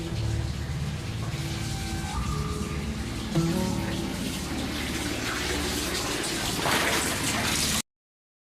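Water runs steadily from a shower, a continuous splashing hiss with faint thuds and tones mixed in, then cuts off abruptly.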